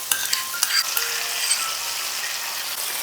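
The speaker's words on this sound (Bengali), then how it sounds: "গ্যাসটাকে লো ফ্লেমে রেখে টক দইটাকে একটু কষিয়ে নিচ্ছি" Whisked sour yogurt fries in hot oil with dry spices over a low gas flame for a chicken roast, making a steady, close hiss and sizzle with a few bright pops near the start.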